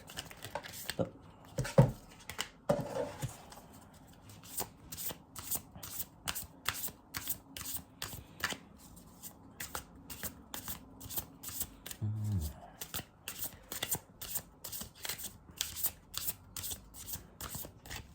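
A deck of oracle cards is shuffled in quick riffling bursts, with a rapid papery flutter that repeats steadily and closely, and a few brief louder handling knocks near the start.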